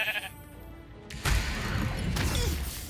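A sheep in Baldur's Gate 3 gives a short bleat, followed by a heavy thump or crash and a sustained rumble, close and fairly loud.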